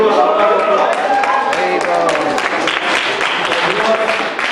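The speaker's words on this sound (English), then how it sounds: "Let us give a round of applause." An audience at a Vedic Center Mother's Day ceremony breaks into a round of applause, loud and close, with dense overlapping claps and some crowd murmur.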